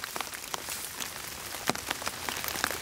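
Rain falling during an early morning hike in Paris Mountain State Park, a steady patter of drops tapping on nearby surfaces, soft and continuous with scattered sharper hits and no voices.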